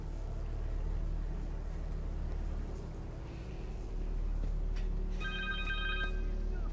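Cell phone ringing in the Spider-Man 2 video game, a short repeated electronic ring pattern emerging late over a steady low rumble of game ambience.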